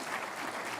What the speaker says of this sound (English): you can give applause for that